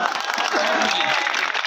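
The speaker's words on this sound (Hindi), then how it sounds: "लोगों ने तालियां बजाई।" Audience applause at a Maharashtra Day Qaumi Ekta mushaira in Balapur, a dense steady wash of clapping held at an even level, with a voice faintly mixed in.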